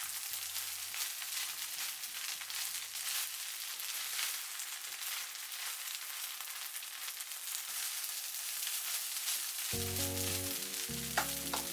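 Rice with tomato sauce seasoning is stir-fried in a pan with a continuous loud sizzle, while faint background music plays underneath.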